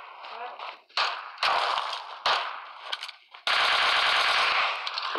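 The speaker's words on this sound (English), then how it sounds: "Some bitch was shooting at me." Bursts of automatic gunfire in the mobile battle-royale game PUBG Mobile, loud and close, with short volleys in the first seconds and then a long sustained burst at the end.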